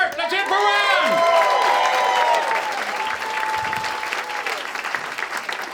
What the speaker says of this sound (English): Big round of applause for Ron Hart.